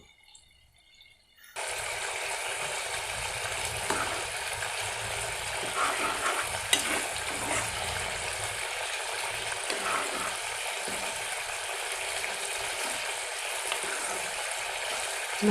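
After a brief quiet moment, a pan of tamarind curry made with betel leaves erupts into a loud, continuous sizzle and bubbling boil that holds steady throughout.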